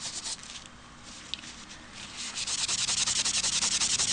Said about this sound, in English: I'm just going to just give it a little rub to remove some of the ink from my